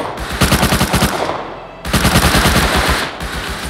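Gunfire from the Rust video game rings out in two loud, rapid automatic bursts, a brief pause splitting them, with dense cracking shots close up and no talk.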